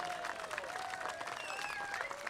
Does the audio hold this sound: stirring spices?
no